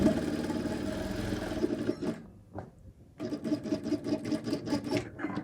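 A sewing machine stitches the side pocket of cargo shorts with white thread: a steady, close, rhythmic whirr that stops briefly and then runs again.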